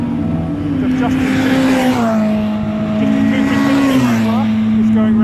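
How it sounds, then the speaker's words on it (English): A white and red Mini Libra race car with a BMW twin cam engine laps the Brands Hatch circuit during a Mini 7 Racing Club test day. Its steady, buzzing engine note rises and falls between gear changes, with a voice talking over it. "It's the white and red Mini Libra that's going round."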